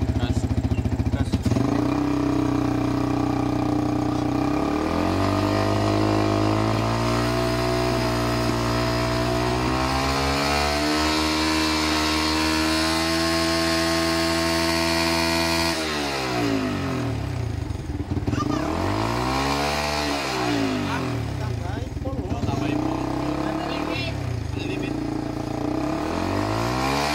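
Yamaha Vixion motorcycle engine idling close by, then revving up and down in several rising and falling swells, with people talking over it.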